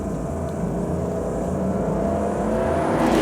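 A Porsche 911 GTS with a single-turbo 3.6-litre flat-six on the move, giving a steady loud engine drone and road rumble that holds evenly from the cabin.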